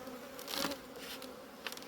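Honey bees buzz steadily around an open hive box in warm weather, a dense, close, continuous hum with individual bees swelling louder as they pass near.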